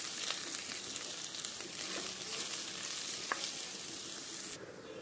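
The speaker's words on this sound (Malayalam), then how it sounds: "ഇനി നമുക്ക് സവാള ഇട്ട് മൂപ്പിക്കാം" Sliced onions frying in an oil-filled pan for a dal palak curry, a steady close sizzle with occasional crackles and a faint stirring scrape, quiet and without talking.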